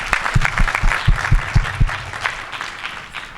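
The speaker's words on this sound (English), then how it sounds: "Can you give them another warm round of applause?" Warm audience applause at a closing plenary session of a scholars' conference, a moderate scattering of claps with a few louder hits near the front, tapering off toward the end.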